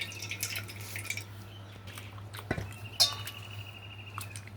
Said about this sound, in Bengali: একটু জল পড়ছে এখানে